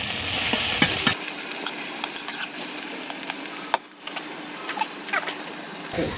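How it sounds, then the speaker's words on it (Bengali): Onions fry in a pan until brown for a spicy mutton bhuna, sending out a constant close sizzle with scattered crackles and a stirring clatter partway through, and no voices. "এখন ভালো করে বাদামি কালার করে ভেজে নিতে হবে।"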